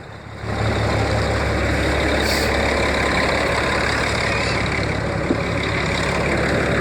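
A Caterpillar 3176 diesel truck engine runs steadily after a misfire repair, giving a continuous, fairly loud low rumble with a smooth, even beat and no clatter, close by and alone.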